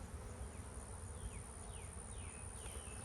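Honeybees buzzing around an open hive during an inspection, a dense continuous drone that sounds faint and steady, with small rising whines from individual bees passing close.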